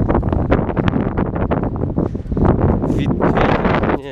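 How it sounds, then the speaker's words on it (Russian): Strong wind buffets the microphone outdoors in a muddy village in Krasnodar Krai, a loud continuous rumble and flutter with gusts; a voice is heard briefly. "На улице сильный ветер."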